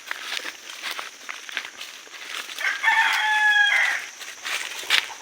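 A red junglefowl rooster crows once, a clear mid-distance call rising over a background of rustling, faint clucks and scattered footsteps outdoors.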